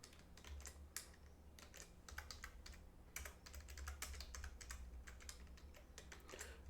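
Fast, steady typing of Python code on a computer keyboard, with dense irregular key clicks over a low hum, faint and alone.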